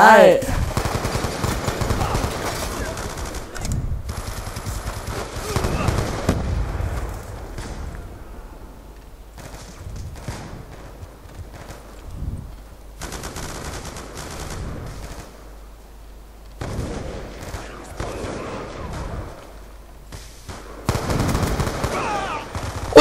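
Gunfire in Call of Duty Black Ops 2 multiplayer, with loud bursts of automatic and single shots coming in clusters between quieter stretches, and a voice talking at times.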